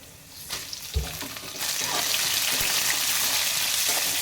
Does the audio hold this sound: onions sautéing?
yes